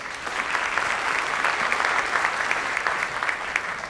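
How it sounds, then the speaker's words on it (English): An audience at a business incubator pitch night gives a round of applause, dense, continuous clapping from many hands, fairly loud and steady throughout with slight swells. "Round of applause for those guys"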